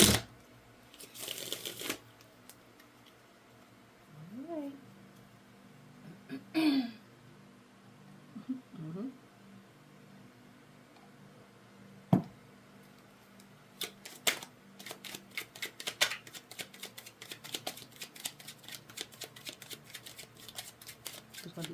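Tarot cards being shuffled by hand, a few soft riffles and crisp rapid flutters of card stock toward the end, close and fairly quiet, with some brief voiced sounds earlier.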